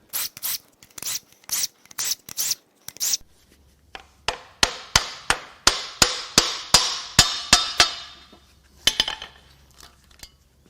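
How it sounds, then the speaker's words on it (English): A ratchet works loose the cam tower bolts on a Hyundai Tau 5.0L V8 engine, making a crisp, close series of metallic clicks, first in short bursts, then in a faster steady run that slows into a few final clicks. "Now we're going to unbolt the cam tower as such."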